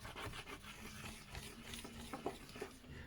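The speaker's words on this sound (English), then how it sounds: "just burnishing the back of the print to make sure I've got all those little bits that I might have missed" A lino cutting tool rubs and scrapes across the back of a lino print, a steady close-up rasping friction with a few slightly sharper scratches near the end.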